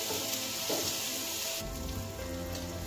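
A tempering for kanda poha with onion, cumin, mustard seeds, turmeric and asafoetida sizzles steadily in a hot pan, a close, continuous hiss and crackle with a brief stirring shift midway.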